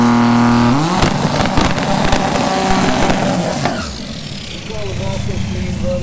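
A rear-wheel-drive GTR race car at a Houston Raceway drag event: its engine drops sharply from a high rev, then gives a loud, rough roar that fades by the end, with voices talking underneath.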